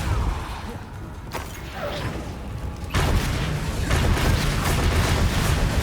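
A Depulso spell cast in the Hogwarts Legacy video game, heard as a dense booming, crashing wash that turns abruptly louder and brighter about halfway through, with whooshing bursts and no speech.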